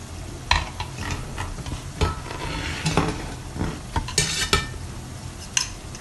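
Aloo onion pakoras fry in oil over a low flame, a soft continuous sizzle punctuated by close scraping and clinking of a utensil stirring in the pan.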